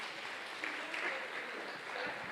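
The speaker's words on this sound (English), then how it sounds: "Everyone, please give Dr. Linda M. Gardiner a round of applause." Conference audience applauds a speaker at a clinical research event, a fairly faint, distant wash of clapping throughout.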